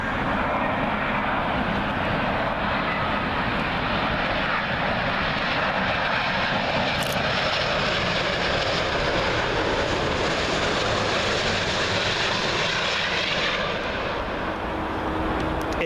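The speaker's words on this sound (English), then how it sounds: "Speaking of A350s, Qatar Airways A350 One World livery," A Qatar Airways Airbus A350 in oneworld livery, arriving at Heathrow from Doha, makes a loud, sustained, broadband jet roar that stays even and steady for the whole stretch, with no talking.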